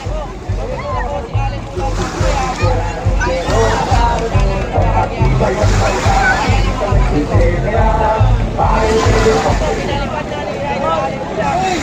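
Big waves slosh and churn around racing boats during an elimination round of a boat race, a steady, loud wash with crowd babble and talk running throughout.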